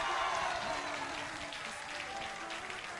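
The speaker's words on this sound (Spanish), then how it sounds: "¡Aplausos!" Studio audience applause during a Christmas variety television show, honoring a performer, cast and dancers; dense, steady clapping from a crowd that stays loud throughout and eases slightly toward the end.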